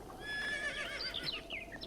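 A horse in the video game Breath of the Wild gives a bright, wavering whinny, followed by quick hoof clip-clops, against a quiet background.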